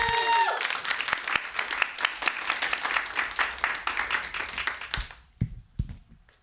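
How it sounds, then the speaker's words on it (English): An audience welcomes a guest at a community fundraiser with a burst of applause, dense and steady clapping filling the room for about five seconds before fading to a few scattered claps. "Please put your hands together for Brett Davis."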